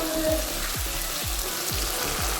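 Frying masala in a pan sizzling after a splash of bowl-rinse water goes in, a steady hiss with a repeating low rhythmic bubbling, close and even.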